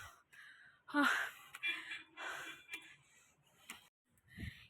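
Heavy, laboured breathing from someone climbing the steps of a hill temple, a series of rough gasps and panting exhalations at close range, with brief quiet pauses between breaths.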